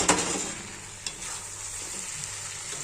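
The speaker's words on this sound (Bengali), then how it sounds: "মশলা ভালো করে কষানো হয়ে গেছে" Spices for a Bengali fish curry with greens sizzle in a pan, a steady frying hiss broken by a few soft stirring scrapes and knocks, close and moderately loud with no talking.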